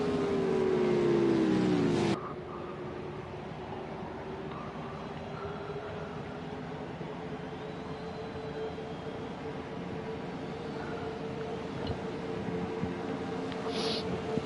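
Race cars at the Monza road course during the Sprite GP, with a loud engine whine sweeping down as a car passes, then a steady, more distant engine drone that builds slightly near the end.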